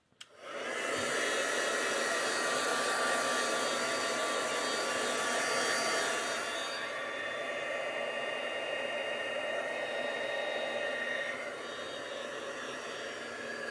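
A hair dryer blows on wet paint on a piece of artwork, clicking on and then roaring in a loud, steady close rush of air that eases slightly partway through and carries on alone without talk.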